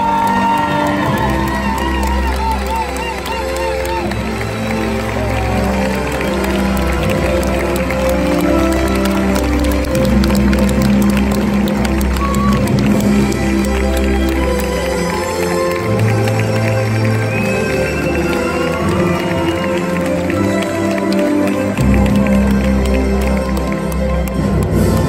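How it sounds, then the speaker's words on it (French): Audience at a Miss Lorraine event applauding and cheering for Miss France 2019 Vaimalama Chaves, a sustained wash of clapping, whoops and shouts lasting throughout. "je vous demande de lui réserver vos meilleurs applaudissements"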